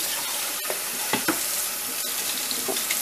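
A plate is rinsed under a running kitchen tap, giving a steady close splashing hiss with a few brief clinks and knocks, and no talking.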